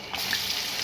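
Chicken pieces for biryani hiss in hot ghee, a short, close, continuous sizzle with no voices.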